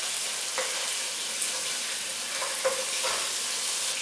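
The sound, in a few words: butter melting and sizzling in a hot pan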